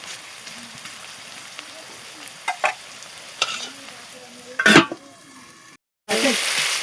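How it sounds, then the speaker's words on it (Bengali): Potatoes fry in a pan, a constant low sizzle with occasional stirring scrapes and a louder clatter, a short dropout, then the sizzle returns stronger. "এবার আলুটা ভাজা করতে দিয়েছি"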